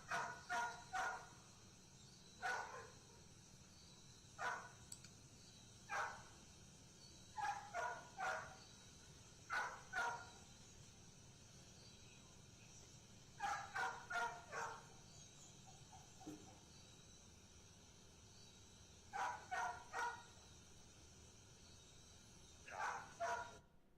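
Dogs barking in kennels at a distance, short clusters of two to four barks repeating irregularly across a long stretch, fairly faint over a quiet hum.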